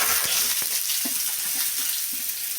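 Tomatoes and onions frying in hot oil for a curry give a loud, steady, close sizzle throughout, with a few faint stirring knocks underneath.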